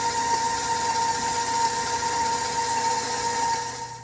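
Stand mixer beating cream cheese, sugar and vanilla for cinnamon rolls, a steady, loud motor whir with a constant high whine, running alone without pause and easing slightly at the end.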